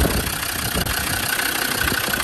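A Land Rover Defender 90 TD5 diesel with 112,000 miles idles steadily up close under the open bonnet, a constant rough engine rumble with no talk.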